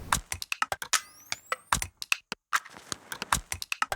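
Rapid clicking from a computer keyboard being typed on, close and crisp, with an irregular stream of keystrokes and a few short pauses.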